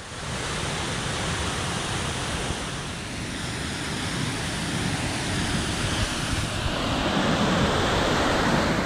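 A partly man-made waterfall on Henline Creek, its flow altered by miners' dams, gives off a steady, full-bodied rushing roar that stays constant throughout with no other sounds.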